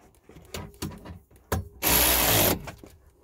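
Socket on an extension tightening a 10mm bolt during a car blend door replacement: a few sharp clicks and knocks, then a short, dense burst of ratcheting, all close and fairly quiet.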